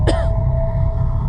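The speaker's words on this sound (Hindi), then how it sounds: "पीछे से वही खांसी की आवाज आई।" A harsh, raspy cough from an old woman, used as a horror-story sound effect, bursts out once, loud and close, then fades into a sustained eerie tone.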